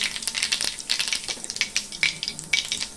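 Cumin and mustard seeds crackle and spit in plenty of hot oil before bitter gourd goes in for crispy frying, bright rapid pops bursting irregularly over a low sizzle, close and fairly quiet.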